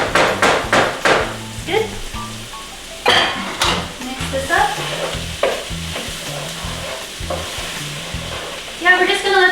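Chopped onions sizzle and fry in a pan for chicken tikka masala while a utensil stirs and scrapes in bursts, with a person talking over the cooking.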